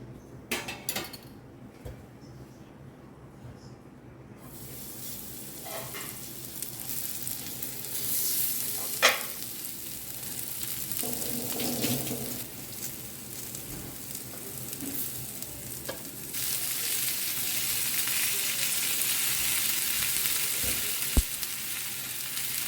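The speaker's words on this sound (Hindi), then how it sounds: "तो चिकन को ना मैं आज कोकोनट ऑयल से फ्राई करूँगी" Chicken fries in coconut oil with a continuous sizzle that swells louder toward the end, mixed with clinks and scrapes of utensils against the pan.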